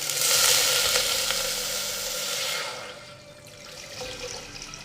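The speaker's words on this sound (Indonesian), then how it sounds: "ditumis sebentar saja ya teman-teman hingga bau harum" Aromatics sizzling and frying in a pan while spinach soup is cooked, a steady close hiss that is loudest at first, eases off, then picks up again with light stirring.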